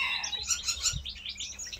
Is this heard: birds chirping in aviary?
yes